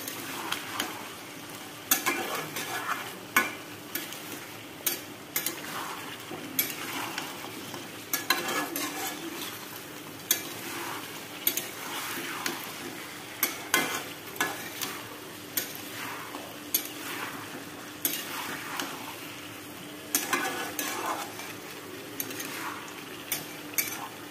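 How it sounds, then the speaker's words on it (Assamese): Steady sizzling from a hot pan with repeated scraping strokes of a spatula stirring pumpkin, duck meat and potatoes, close up and continuous, no voices. "কোমোৰাখিনি মাংসৰ আলুৰ লগত ভালদৰে মিহলাই অকণমান সময় ভাজি থাকিম"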